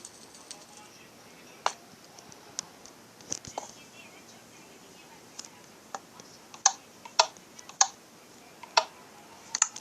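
Someone types on a computer keyboard with sparse, crisp key clicks, irregular and fairly close, growing a little more frequent toward the end, with soft murmured speech in the background.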